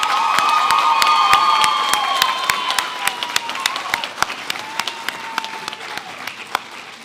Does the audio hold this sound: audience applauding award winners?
yes